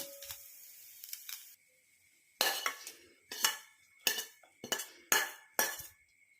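A spoon ladles fried coconut into black gram porridge in a kitchen, with a run of six or so close, sharp metallic clinks and scrapes against the vessel at a steady pace.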